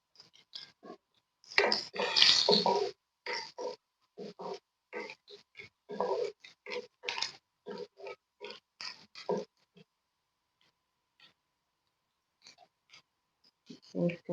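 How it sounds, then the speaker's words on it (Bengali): Garlic cloves are crushed while cooking red lentils with fried eggs: irregular bursts of crunching and squashing, some long and some short, with quiet pauses between them and no speech. "দিচ্ছি রসুন একটু থেতলায় দিচ্ছি।"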